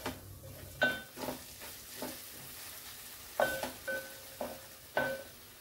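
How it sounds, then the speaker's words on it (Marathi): Chopped tomato sautéed in masala for sponge gourd curry, a low sizzle broken by several distinct spatula scrapes and clinks against the pan, close and without talk. "टोमॅटो सुद्धा छान असा परतून घेऊया।"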